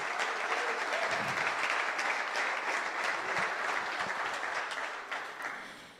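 A church congregation applauds at a service: steady, dense clapping from many people that holds evenly and then tapers off near the end.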